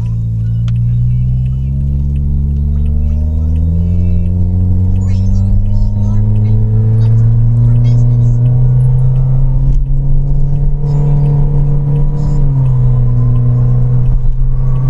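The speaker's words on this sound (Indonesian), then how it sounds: "sekarang mau coba akselerasi mode eco ya, dari 0 ke 100 bagaimana" A car pulls away hard from standstill to 100 in eco drive mode, its engine drone rising steadily in pitch with one brief drop around a gear change, loud and close throughout.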